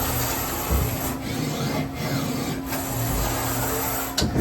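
A 2011 Doosan Lynx 300 CNC lathe with a servo-driven turret and 12-inch chuck runs at full rapid, giving a steady mechanical whir and hum with a faint tonal whine and brief whooshing surges.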